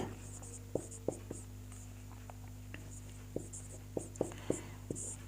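Handwriting a word, heard as faint, quiet pen strokes and taps spaced irregularly across a soft background hum, close to the microphone.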